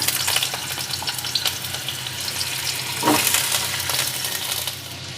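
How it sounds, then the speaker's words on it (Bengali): Potatoes hit hot mustard oil in a wok and sizzle loudly and steadily, with crackles and a stirring scrape midway through the short stretch. "তেল গরম হয়ে গেছে, এখন আমি আলুগুলো ছেড়ে দেবো"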